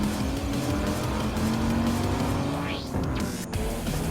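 A blue Dodge Viper GTS race car in Gran Turismo 7 roars at sustained high revs with a steady droning engine note, a quick upshift sweep near the end, during a World Touring Car race at Barcelona.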